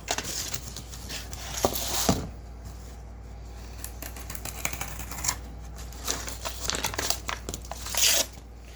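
Glued material being peeled off chunks of foam while making a tabletop RPG battle mat, a close, quiet crinkling and tearing with soft rustles and a few sharper rips, with no talk.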